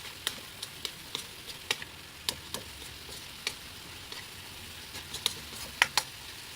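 Vegetable filling for lumpiang gulay being mixed with soy sauce and pepper, heard as a quiet run of irregular, sharp spoon clicks and scrapes against the bowl over a soft background, with no talking.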